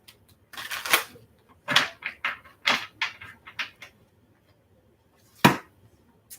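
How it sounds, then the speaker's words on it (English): Crisp riffling bursts of tarot cards being shuffled, several short rapid flurries separated by brief pauses, close and clear. "All right, one more shuffle."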